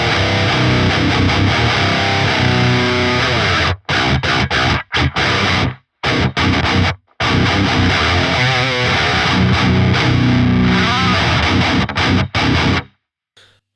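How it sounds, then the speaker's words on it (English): High-gain electric guitar played through the Neural DSP Fortin Cali Suite amp simulator with Fishman pickups: loud, dense distorted riffing with abrupt palm-muted stops and short silent gaps, no talking. "This is the Fortin Cali Suite from Neural DSP."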